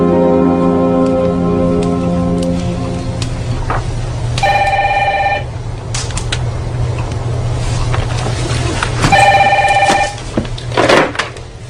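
A landline telephone rings twice in an indoor scene, each ring a bright electronic warble lasting about a second, loud and close over a low background hum.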